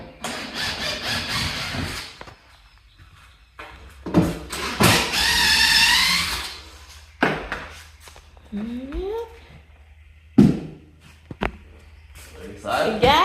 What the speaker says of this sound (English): So Tim got the drill and he's taking the screws out